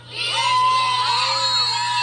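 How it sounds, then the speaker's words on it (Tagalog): A dense crowd cheers for President Bongbong Marcos, high shouts and screams rising together into a loud, sustained roar of many voices. "Kita ninyo ang crowd na yan?"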